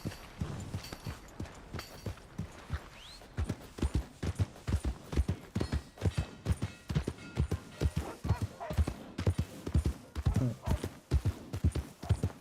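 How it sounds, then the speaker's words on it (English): Horse hooves clip-clop in a rapid, uneven rhythm in the Red Dead Redemption 2 video game, with loud, close hoof strikes throughout and a brief whinny early on. "agora o cavalo tá estressado, velho"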